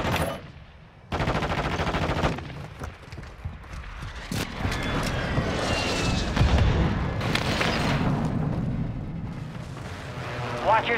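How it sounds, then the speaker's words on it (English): Gunfire and explosions from a friendly airstrike in Call of Duty: Modern Warfare II, with bursts of automatic fire and heavy booms rolling over a sustained loud battle din, voices talking over it. "Friendly airstrike on the way."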